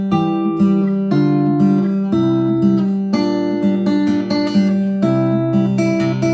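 Acoustic guitar strumming the chords of a song with a descending bass rundown, steady rhythmic strums ringing close and clear, played alone with no voices.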